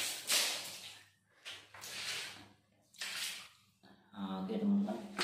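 Water is poured over a soaked item to rinse it, splashing close by in several separate pours with short pauses between them.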